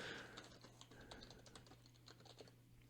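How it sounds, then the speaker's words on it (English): Keyboard typing on a computer keyboard, a steady run of crisp, close key clicks alone over a low constant hum, with no talking. "What a great sound this keyboard makes."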